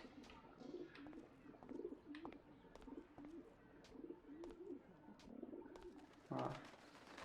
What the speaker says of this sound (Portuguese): tô ouvindo pombo. Esse barulho de pombo.